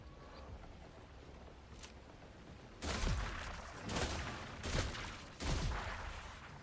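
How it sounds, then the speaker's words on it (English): Suppressed gunshots from a silenced gun in the game Last Caretaker, four muffled thumping shots spaced about a second apart over a quiet low ambient hum. "now I got a suppressor. Let's test what this does to its shooting"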